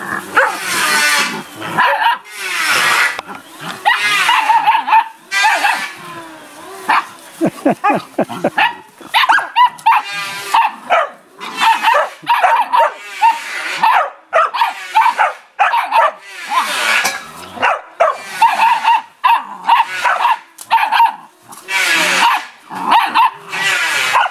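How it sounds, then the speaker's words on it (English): Dogs bark, yip and whine in repeated, excited bursts close by, with a person's voice mixed in between. "I think I've been outvoted by the dogs"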